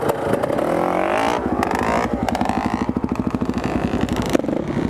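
An enduro motorcycle engine starting in the woods, a rising crank and rev followed by a rapid, rhythmic idle putter, loud and close.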